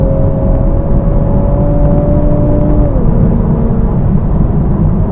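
A 2020 Toyota A90 Supra pulls away on a dry road with a steady loud engine drone, its tone climbing then stepping down mid-clip as it shifts, over constant road and wind rumble.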